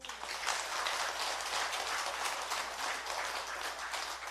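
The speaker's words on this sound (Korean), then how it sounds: "박수 한번 치셔야지" Audience applause at a Buddhist temple dharma talk during an all-night prayer vigil, a dense, sustained wash of many hands clapping at steady loudness throughout, with no voices over it.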